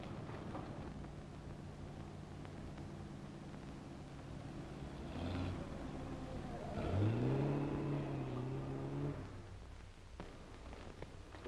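An old car approaches in a black-and-white film, its engine rising from a low hum to a louder, rough drone, then easing off as it pulls up and idles, with no voices.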